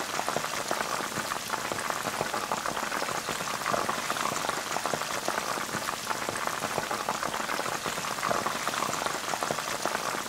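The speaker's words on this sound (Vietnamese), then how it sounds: "Và chúng ta tiếp tục chiên những cánh còn lại nó vàng như vậy luôn ha." Chicken wings deep frying in hot oil, a dense, steady crackling sizzle like rain that holds evenly close by, with no talk.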